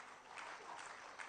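A faint, brief burst of audience applause at an outdoor French political speech and republican banquet, a steady wash of clapping heard from a distance.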